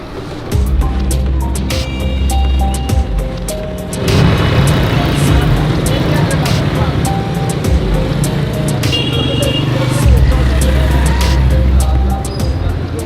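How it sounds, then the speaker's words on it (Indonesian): Steady street din on a Lahore roadside where a garbage truck is being loaded, an engine rumbling continuously with clanks and scattered traffic noise throughout, no clear talk. "Kemudian mereka memuatnya ke truk."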